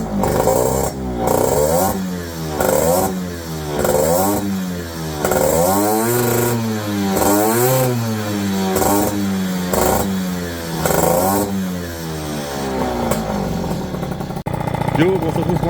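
A Fox motorcycle engine, freshly rebuilt with a new crankshaft and a 40 idle jet, runs on its stand after carburetor tuning, droning steadily and loudly with rhythmic revving surges throughout.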